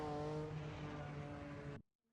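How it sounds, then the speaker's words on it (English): A loud racing car engine in a video game drones steadily at high revs, then cuts off abruptly into silence. "This car is so loud."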